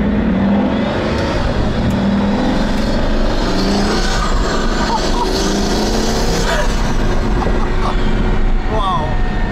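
Engine of a Pagani Huayra Codalunga with 840 hp, heard from inside as a loud continuous roar with intake rush, while people talk over it.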